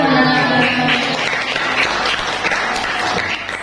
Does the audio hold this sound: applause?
yes